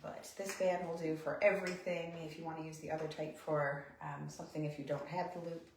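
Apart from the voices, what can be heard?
None of the usual background noises is heard.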